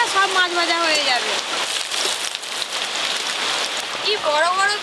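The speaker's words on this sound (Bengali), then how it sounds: "কি বড় বড় বৃষ্টির ফোঁটা পড়ছে, দেখো দিদি।" Heavy rain with big drops pattering onto a village pond, a steady close wash of splashes throughout, with people talking over it at the start and again near the end.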